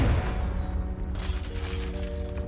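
Confringo fire spell cast in Hogwarts Legacy, a dense burst of crackling blasts and rumbling booms layered over a sustained game score, loud and continuous for a couple of seconds.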